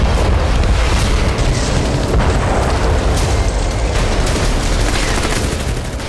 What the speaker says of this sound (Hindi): आसमान से मिसाइल गिरी, जोरदार धमाका हुआ।